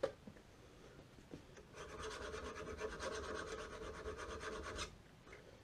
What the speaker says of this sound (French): J'ai dit que j'allais nettoyer un petit coup à la lime.